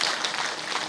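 Audience applause at a Buddhist book launch ceremony in Busan, a steady dense wash of many hands clapping throughout, moderately loud and uninterrupted.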